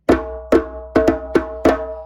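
Five sharp djembe strikes in an uneven rhythm, a rhumba break, each ringing briefly with a resonant tone, played alone and close.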